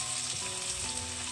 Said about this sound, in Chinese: 再将香菇、萝卜倒进来翻炒均匀